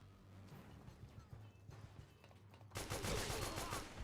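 In the Metal Gear Arcade video game, a quiet stretch of faint background noise gives way to a sudden burst of loud, rapid gunfire that carries on to the end.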